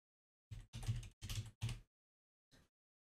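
Keystrokes on a computer keyboard come as four quick clustered bursts of clicking and then a single faint tap after a pause, close and quiet with no voices.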